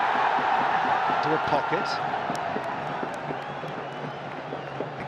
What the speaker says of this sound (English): Crowd really is in good voice